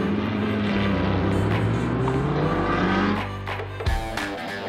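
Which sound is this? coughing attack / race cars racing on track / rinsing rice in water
race cars racing on track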